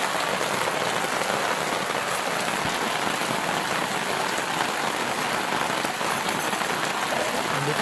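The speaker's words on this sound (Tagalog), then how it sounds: "Sobrang lakas talaga ng ulan." Heavy rain pours down in a steady, dense roar that stays loud and unbroken throughout, with no voices heard.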